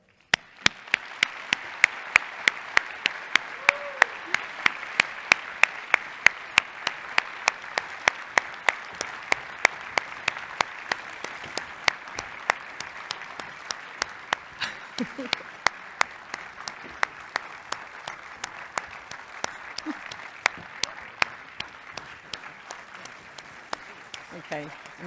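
Audience at the 2020 AMS Annual Meeting applauding new fellows: sustained, steady clapping from a large crowd in a hall, filling the whole stretch at even loudness with sharp individual claps standing out near the mic.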